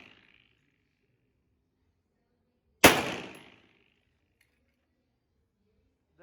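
A single sharp gunshot cracks at a firing range, close and loud, with a short decaying echo tail after near silence.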